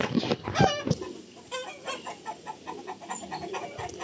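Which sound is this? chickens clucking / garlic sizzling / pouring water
chickens clucking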